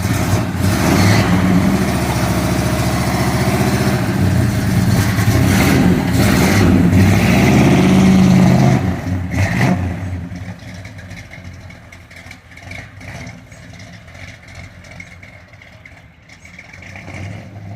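A cold car engine with big cams and carburetors revs loudly and roughly up close for several seconds, then drops to a lower rumble as the car drives off, with no talking.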